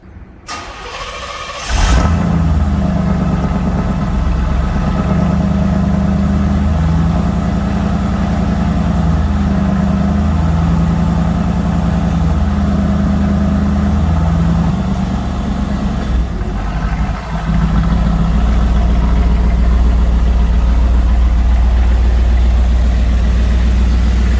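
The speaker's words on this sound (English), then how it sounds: "let's pull this thing out and give you guys a cold start" A 1989 Trans Am GTA engine cranks and catches on a cold start, then settles into a loud, steady idle with slight fluctuations in pitch, close up and without talk.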